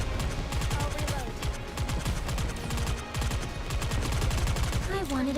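Rapid gunfire from the video game Nikke, dense and continuous bursts of automatic shots layered with game music and sound effects, a voice speaking over the action.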